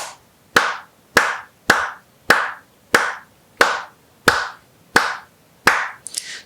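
Ten sharp hand claps recorded in FL Studio, evenly spaced about every 0.6 seconds, close and loud, each with a short decaying tail and quiet gaps between, no voices.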